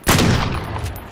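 A MAC-10 submachine gun firing in Call of Duty: Modern Warfare, one short loud burst of rapid shots that opens sharply, then trails off into a fading echo.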